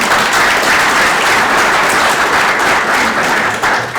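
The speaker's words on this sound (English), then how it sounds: "Let's give him a little round of applause" A crowded room at a State of the City address gives a loud, continuous round of applause, dense overlapping clapping holding steady with no voices heard.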